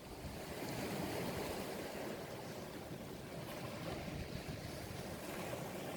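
Ocean waves washing over and through rocks, a steady broadband hiss and rush of water that swells gently, continuous and fairly faint with no talking.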